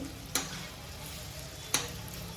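Papaya sabzi frying in hot oil, a low steady sizzle broken by two sharp clinks as a spoon stirs the pan.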